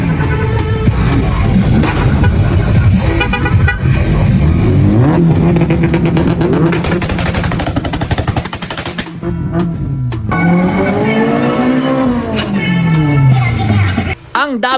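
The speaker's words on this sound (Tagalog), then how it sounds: "car meet sa Subic Bay" Cars at a car meet in Subic Bay rev and roar loudly nearby, engines rising and falling in pitch with rapid crackling exhaust pops like gunfire, one sweeping past late in the stretch, while people talk throughout.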